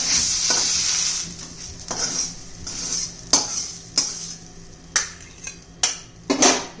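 Fenugreek leaf (methi) vegetable cooks in a pan on low flame, a soft sizzle under repeated scraping stir strokes at an uneven rhythm, close and fairly loud.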